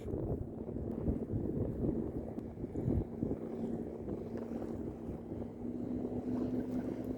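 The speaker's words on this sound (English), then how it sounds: "The further out you go, the more wind." Steady wind gusts across an open lake while a boat sits out on the water, a constant rumbling roar of wind noise with faint water sounds.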